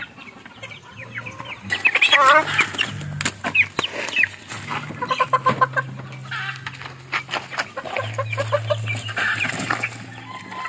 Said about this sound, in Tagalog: Anong kulit na ng aking alagang manok